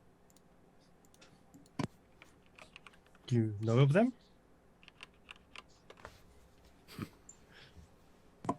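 Scattered clicks of typing on a computer keyboard during an online tabletop roleplaying session, soft and close, broken by a brief louder vocal sound and a few sharper isolated key taps while a voice speaks.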